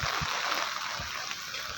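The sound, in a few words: river water flowing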